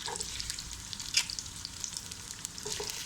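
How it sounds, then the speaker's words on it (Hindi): Onion and chicken sauté lightly in a pan with a close, crackling sizzle, plus a few sharper pops and utensil taps over the steady frying. "मैं इसको लाइट सा सोते करूँगी और फिर साथ ही इसमें चिकन डाल दूँगी।"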